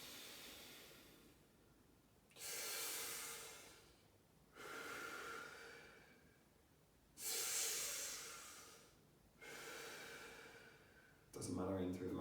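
Slow, deep breaths in a breathing exercise, with the breath forced downwards toward the pelvis, come close and clear: about five long, rushing exhales or inhales with quiet pauses between them.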